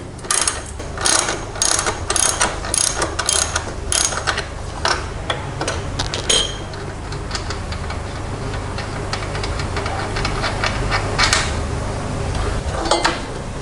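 A ratchet wrench clicks rapidly while loosening the 17 mm upper shock absorber nut on a Honda CT125 motorcycle, with quick bursts of close ratcheting that settle into steadier, lighter ticking.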